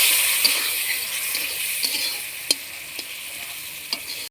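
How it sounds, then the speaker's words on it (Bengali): Spice masala sautéing with a splash of water in a pan for a fish curry, a steady soft sizzle with a few light spoon clicks and stirs, close and alone with no talking. "একটু কষিয়ে নেব মশলাটা"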